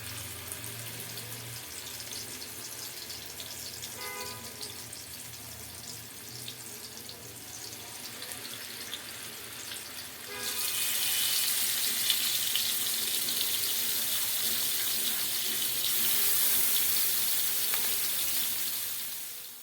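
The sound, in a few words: rohu fish frying in hot oil in a pan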